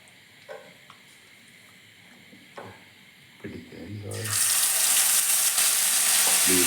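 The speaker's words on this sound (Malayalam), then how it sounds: "നമുക്ക് നെക്സ്റ്റ് വറുക്കാനുണ്ട് കേട്ടോ" Food drops into hot coconut oil and erupts into a loud, steady sizzle after a few quiet clinks and handling noises, the hiss filling the second half.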